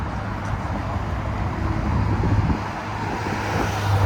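Traffic on a six-lane highway in a Toronto suburb, a steady close wash of car and engine noise with a low hum swelling slightly toward the end, no voices.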